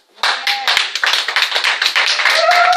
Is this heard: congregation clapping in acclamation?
yes